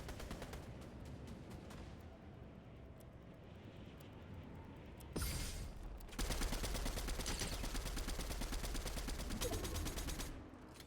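Automatic gunfire in the Fortnite video game, rapid bursts of shots aimed at the player, sparse at first and then dense, continuous and loud for the last few seconds.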